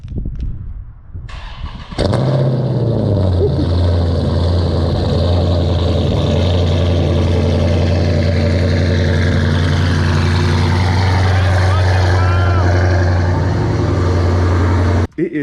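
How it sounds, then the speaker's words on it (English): A Dodge Charger or Challenger V8 fires up on a cold start with a sharp crank and a loud bark, then settles into a steady, heavy, rumbling high idle that continues close up, with a voice speaking over it. "cold start about to go really, really crazy"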